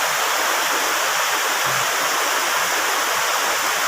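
A close waterfall pours in a loud, steady rushing roar that fills the whole short stretch without a break.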